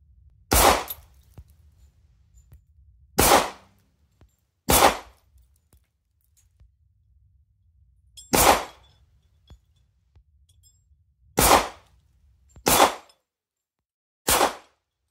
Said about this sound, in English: Just gonna do a mag dump this time.